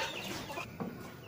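Young chickens at a small poultry farm clucking softly in a short burst, fairly faint and close, with no talk.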